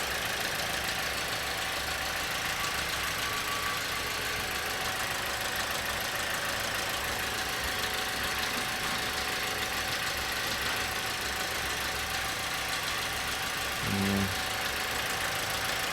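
A Toyota Auris engine idles steadily under a loud, even hiss, with a small rattle and a brief thump near the end.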